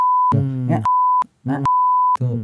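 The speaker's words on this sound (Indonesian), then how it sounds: "ntar kita bip di sini" Three loud, pure censor beeps cut across stretches of speech, each tone held steady before the voices resume in between.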